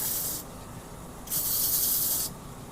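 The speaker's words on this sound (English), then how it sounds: "Sandpaper is a cutting instrument." 150-grit sandpaper rubs across a warped wooden bowl in two sustained, bright, hissing strokes separated by a short pause, heard up close with no voices.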